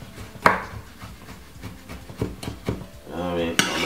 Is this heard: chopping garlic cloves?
yes